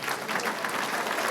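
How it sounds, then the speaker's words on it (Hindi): Audience members at a youth Christmas gathering clap steadily, a dense, even patter of many hands filling the hall at moderate volume with no voices on top. "ताली तो बजाओ एक बार"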